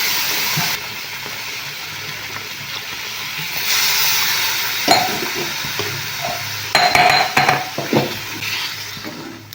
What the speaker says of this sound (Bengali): প্রথমে আমি দুধ জল দিয়েছি তো নাড়িয়ে চাড়িয়ে ভালো করে দেখে নিলাম